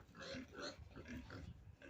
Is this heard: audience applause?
no